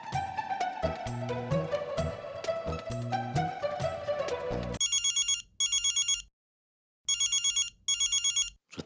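A telephone ringtone cuts in after a busy stretch of music, then chirps in repeated electronic bursts separated by short gaps of silence, sounding clear and close.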